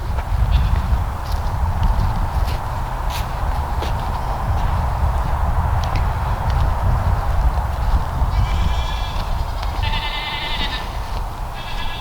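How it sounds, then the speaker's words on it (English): Goats on an outdoor property bleat several times over a loud, constant low rumble from an excavator, their calls fairly close and clustered toward the end. "The goats see me. They're making noises."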